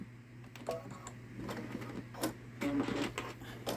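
A Babylock Solaris Vision embroidery machine runs nearby with an irregular, odd mechanical clatter: uneven ticking and thumping stitches over a low motor hum, fairly quiet, with no speech.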